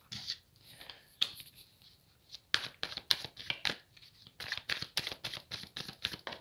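Tarot cards being drawn and handled on a table, crisp papery snaps, slides and flicks close up, sparse at first then a rapid run of shuffling taps toward the end, with no talk.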